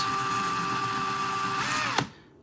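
A drill fitted with a sanding disc grinds paint off a Penn 8500ss spinning reel, giving a steady, close whine that cuts off abruptly with a short knock near the end.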